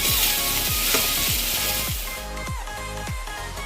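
Ginger-chili paste with asafoetida sizzles steadily as it roasts in a hot pan, with soft stirring scrapes and a few rhythmic clinks running through the close, continuous frying hiss.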